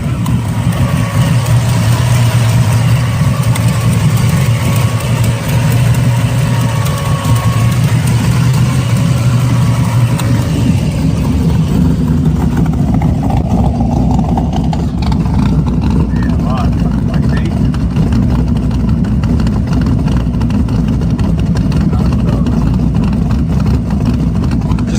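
A 1972 Chevrolet Chevelle with a 383 stroker engine and T56 gearbox idles, its deep burbling exhaust rumbling steadily and loudly beside a voice that talks over it.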